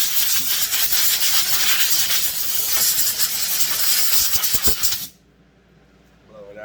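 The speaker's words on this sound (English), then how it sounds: "We're going to give him a little shot of brake cleaner." Aerosol brake cleaner blasting into a McCulloch 610 chainsaw in one loud, continuous hiss lasting about five seconds, then cutting off abruptly into near quiet.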